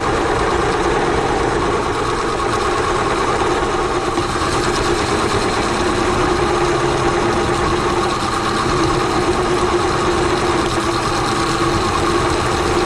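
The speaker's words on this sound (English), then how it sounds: "We're cutting the metal right away." Metal being cut on a lathe, a loud, continuous machine drone and grinding hum that holds steady and close for the whole stretch, with no talking.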